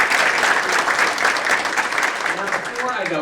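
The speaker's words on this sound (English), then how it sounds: "So a big round of applause for everyone who's helped support the Chamber." A business-awards audience at a Chamber of Commerce women's achievement event claps steadily in a dense, even wash of applause, with faint voices starting under it toward the end.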